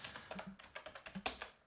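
Someone types a password on a computer keyboard, about a dozen quiet, crisp key clicks in an uneven rhythm, with one sharper final tap like an enter key, alone and close.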